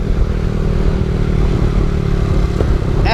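A Boom Vader small motorbike, a Grom clone, with its small engine running steadily and loud throughout, a low rumbling drone with no talk.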